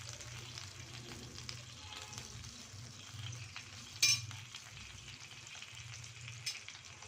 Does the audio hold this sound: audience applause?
no